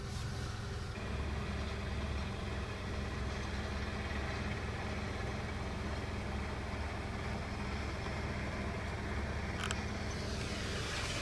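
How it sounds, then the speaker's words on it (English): A tractor runs in a neighbouring field in rural Pennsylvania, a faint, steady engine drone far in the distance under open-air background noise, with no voices. "Got the tractor over here in the next field going"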